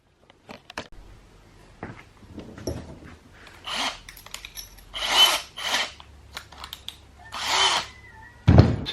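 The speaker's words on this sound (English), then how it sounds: "we should be able to just drill straight through" A power drill bores through the rear diffuser of a Volkswagen Golf R in short separate bursts of whirring, with tool clicks and handling knocks between runs and a sharp thud at the end.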